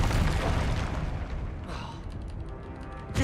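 A Confringo blast spell in Hogwarts Legacy, a loud booming explosion at the start that rumbles and fades over a few seconds, with game clatter trailing off.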